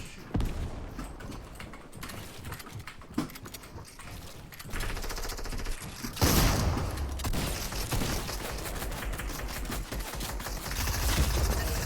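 Dense bursts of video game gunfire and rapid automatic shots mixed with in-game noise, loud and continuous across the clip with shifting intensity.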